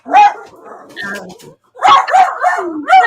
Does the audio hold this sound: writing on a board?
no